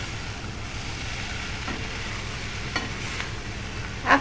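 Cluster beans curry being stirred in a pan with garam masala, a soft steady scraping and light sizzle over a low background hum, with a couple of brief clinks near the end.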